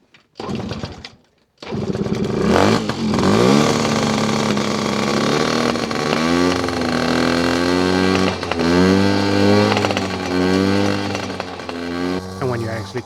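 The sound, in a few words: Yamaha PW50 dirt bike engine struggling and backfiring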